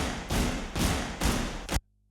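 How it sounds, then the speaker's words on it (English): Several people stomp together on the floor of a hall, four heavy, booming thuds about half a second apart, each ringing briefly in the room before a sudden cut to silence. "So there's some stomps that I recorded with a couple people down in a hall down the road."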